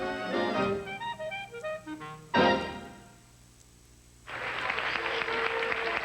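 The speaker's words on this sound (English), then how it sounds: "Yes, all these applause are for you" Audience applause at a PBS broadcast pledge break for a music special, a short burst of clapping after music fades, then steady, moderately loud applause that carries on to the end.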